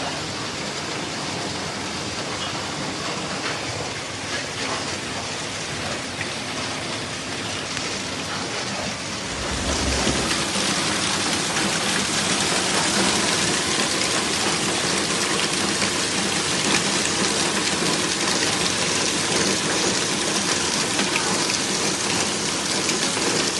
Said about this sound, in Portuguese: Olha só um vídeo que chegou, inclusive, lá de São Miguel das Missões, com chuva e granizo.